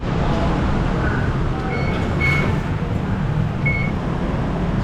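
A Bangkok metro train rumbles steadily up close, a continuous loud roar of carriage noise with a few faint electronic chime tones sounding over it.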